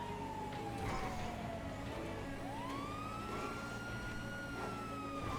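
Police siren in the video game GTA V wails and rises continuously, loud and steady over a background of engine and street noise, with no voices.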